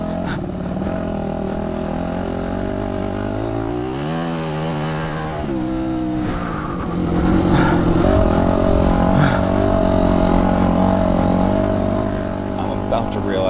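Motocross dirt bike engine on a vet track in hot canyon weather, a steady buzzing drone with rising and falling revs and a louder, closer pass toward the end.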